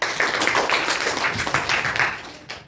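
Children applaud a school quiz team in a class competition, a dense burst of clapping from a whole group of kids that lasts a couple of seconds and tails off with a few final claps.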